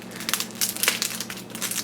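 An Edward & Sons Not Beef vegan bouillon cube is crushed and crumbled close by, with a string of gritty crinkling crunches of varying loudness.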